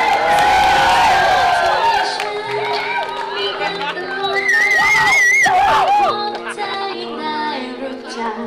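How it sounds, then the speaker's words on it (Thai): Wedding guests clap, cheer and whoop in a lively, crowded room, with voices and music-like tones mixed into the noisy celebration. "ขอเสียงปรบมือให้กับเหล่าสาวในวันนี้ด้วยนะครับผม"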